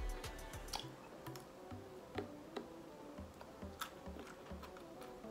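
Close, quiet crunching and clicking of crunchy cartilage being chewed, with irregular crisp snaps over soft mouth sounds and no talking.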